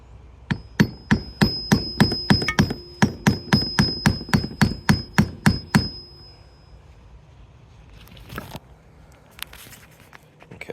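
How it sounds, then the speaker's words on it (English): A pin is driven out of a Pelican 1650 case latch with about fifteen sharp, evenly spaced hammer strikes carrying a metallic ring, then quieter handling and scraping, close by with no talking. "So I'm just going to drive the pin from the outside towards the inside"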